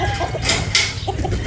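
Boston Roundhead pullets and a broodstag cluck close by, a few short loud calls with scattered bursts over a noisy background and no voices.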